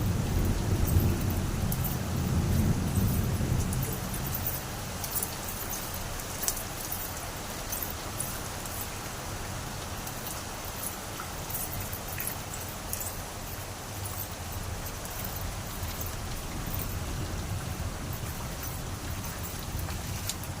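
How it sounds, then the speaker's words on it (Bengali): Steady, dense rainfall fills the scene with an even hiss, and a deeper rumble swells at the start before settling into constant downpour. "বৃষ্টি হচ্ছে তো সেই জন্য"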